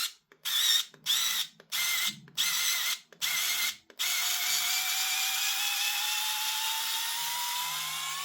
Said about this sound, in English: And the screwdriver cuts out, it's just hitting its Torx limit.